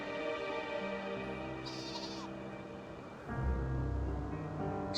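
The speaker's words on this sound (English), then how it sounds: "Sheep." Sheep bleat in a video game, a few wavering cries that stand out against a steady background of game music and ambient tones.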